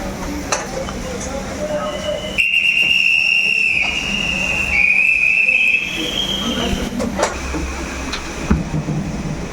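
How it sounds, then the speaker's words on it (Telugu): A passenger train starting to move with a loud, sustained whistle blast lasting a few seconds, amid rumbling carriage noise and people talking nearby. "ట్రైన్ మూవ్ అవుతుంది చూడండి"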